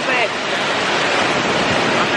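Burgess Falls pours with a steady, loud, broadband roar that fills the whole moment, close and unbroken, with a voice barely surfacing beneath the rushing water.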